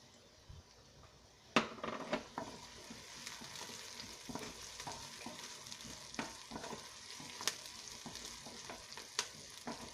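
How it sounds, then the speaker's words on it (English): Cumin seeds hit a hot pan on medium-low heat for pilau rice, crackling into a busy sizzle with stirring clinks and scrapes throughout. No one speaks. "I'm going to put my cumin seeds"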